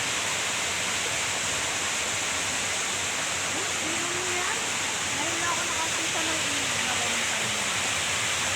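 A river near Angeles flows in a constant dense rush of water, steady and fairly loud, while a voice talks faintly underneath partway through.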